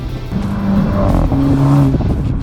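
A BMW M135i engine roars loudly as it accelerates hard to overtake, pitch climbing through a gear change of its Aisin 8-speed automatic, with no voices.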